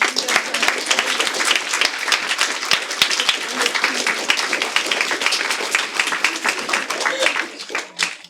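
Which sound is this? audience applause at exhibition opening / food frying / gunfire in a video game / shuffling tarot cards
audience applause at exhibition opening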